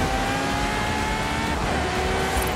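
A car engine drones steadily in Forza Horizon 5, likely a Ferrari FXX-K Evo on the Colossus circuit, a high sustained whine with a rival car roaring past nearby.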